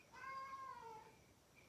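A pet cat meows indoors, one drawn-out, slightly wavering call that rises and then trails off, faint and fairly close in a quiet room, followed by a brief soft noise at the end.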